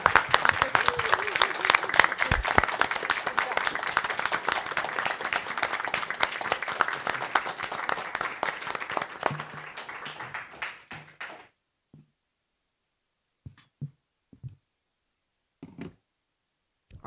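Applause fills a room during a school board meeting, a dense steady clapping from the audience lasting around eleven seconds before cutting off, followed by near-silence with a few scattered faint taps.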